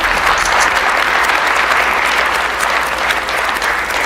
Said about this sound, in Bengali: রিবন কাটিংয়ের এই মুহূর্তে আসুন আমরা সবাই করতালির মাধ্যমে দিনটিকে স্মরণীয় করে রাখি।